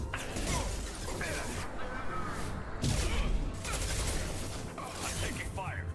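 Gunfire in the video game Mass Effect 2: rapid shots and crashing impacts mixed with whooshes, game sounds and character voices in a busy combat scene.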